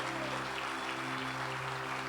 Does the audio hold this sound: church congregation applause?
yes